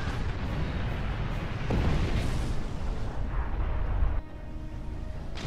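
Starship cannons and weapons fire with booming explosions from the space combat game Star Trek Online, rumbling in heavy continuous bursts that cut off abruptly near the end.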